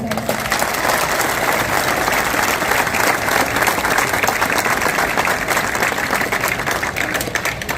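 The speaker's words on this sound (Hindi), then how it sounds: "तो बजाइए एक बार ताली।" Sustained, dense applause from an audience at a public gathering, steady and loud throughout with a crowd murmur underneath.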